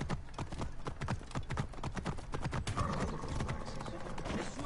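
Horse hooves clip-clop in a steady, rapid rhythm in the video game Assassin's Creed Origins, fairly loud and continuous, with a low rumbling background beneath.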